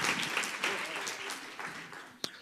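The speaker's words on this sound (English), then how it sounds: "give a round of applause for all those folks" Brief applause from a presentation audience, a moderate patter of hands clapping that tapers off within a couple of seconds, with one sharp clap near the end.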